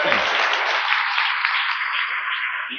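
A large audience at a church conference breaking into loud, dense applause, a continuous wash of many hands that holds steady and tapers slightly at the end.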